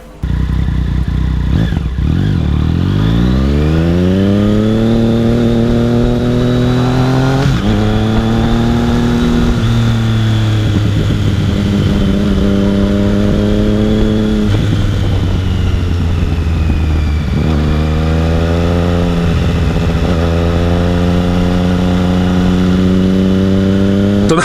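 A Yamaha FZ09 motorcycle lapping a race track on a track day, its engine loud and close, revving up through the gears in repeated rising sweeps with brief drops at each shift, continuous and without speech.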